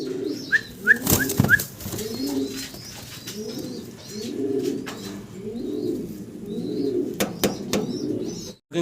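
A pair of grizzle-coloured fancy pigeons coo in low, repeated rolling phrases across the whole stretch, with a few sharp chirps and a brief burst of wing flapping near the start, close and steady with no talk.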